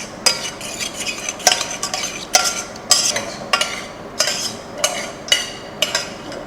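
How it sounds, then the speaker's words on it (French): A marinade stirred in a bowl for an Indonesian dish, with a utensil scraping and clinking against the bowl in a steady rhythm of about two strokes per second, close and clear with no talking. "On va simplement la mélanger."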